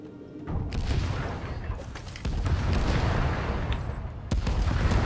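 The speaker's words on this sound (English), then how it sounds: "that's a lot of explosions and stuff" Explosions in the video game Stories: The Path of Destinies, a dense run of deep booms and blasts layered over one another, loud and continuous with sharper hits near the middle and end.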